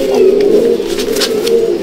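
A male Malbai/Panjabi pigeon in a loft coos close and loud, a steady throaty rolling murmur running throughout with faint chirps in the background.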